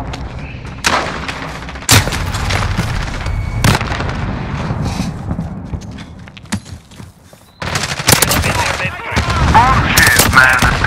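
Gunfire in the Call of Duty Modern Warfare video game during a hardpoint match, loud bursts of shots and impacts in irregular clusters with a brief lull near the end before the firing resumes.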